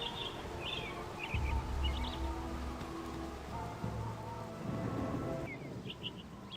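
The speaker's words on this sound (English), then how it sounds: "we decide it's a good time to take shelter from the rain and find a place to rest." Steady rain falls in the Baldur's Gate video game, a constant soft hiss with faint bird chirps scattered over it and a low rumble partway through, no speech.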